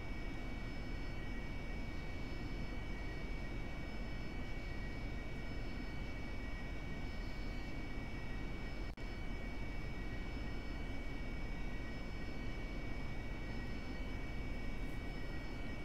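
Aircraft taxiing on a runway in the DCS flight simulator game, with a steady, unbroken engine drone and hum that holds evenly throughout with no talk.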